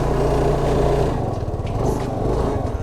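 A KTM Duke 390 motorcycle engine runs just after starting, a close, loud, buzzy single-cylinder idle that wavers slightly in pitch over a few seconds, with no voices.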